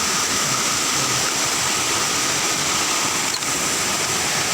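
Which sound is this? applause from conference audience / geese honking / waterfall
waterfall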